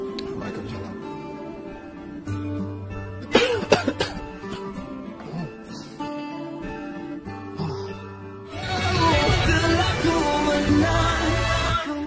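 A person coughs several times in a quiet indoor scene, the short harsh bursts rising above a soft music bed that later swells louder.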